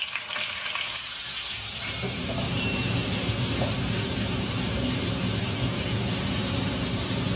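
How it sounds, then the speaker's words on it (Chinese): Fatty pork belly sizzles loudly in hot oil in a wok as it renders its fat for Henan-style steamed noodles, a dense, continuous crackle that swells after the first couple of seconds and holds steady. "五花肉先煸出油"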